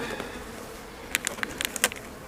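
Honeybees hum in a low, steady drone at an open hive being closed in winter, broken by a few sharp clicks and taps close by in the second half.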